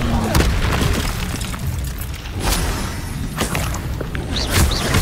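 Spell-casting combat in the Hogwarts Legacy video game, with repeated booming magical blasts and thuds over a dense, constant din of battle, some sharp bursts standing out near the end.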